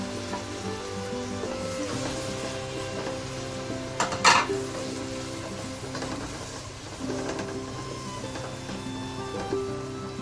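Onion, ginger paste and garlic paste fry in oil in a pan for chicken biryani, a steady sizzle with a utensil clinking and scraping against the pan partway through.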